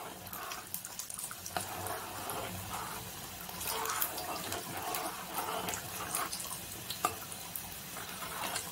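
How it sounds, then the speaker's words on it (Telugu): Cornflour mixed with water is poured into a boiling sweet and sour chutney sauce, giving a continuous, fairly loud watery splashing and bubbling that runs steadily throughout with small surges. "మనం ఇందాక తీసుకున్న కార్న్ ఫ్లోర్ లోకి వాటర్ యాడ్ చేసి ఇందులోకి యాడ్ చేసుకుందాం"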